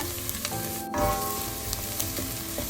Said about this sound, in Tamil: இந்த வெங்காயத்தோட எல்லாம் சேர்ற மாதிரி நல்லா கலந்து ஒரு நிமிஷம் வதங்க விடுவோம்